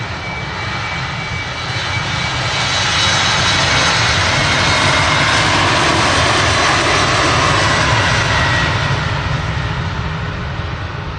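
A jet airliner departs Manchester Airport's runway 23 left, a loud, steady roar that builds and holds across the whole stretch and then begins to ease, with no voices over it.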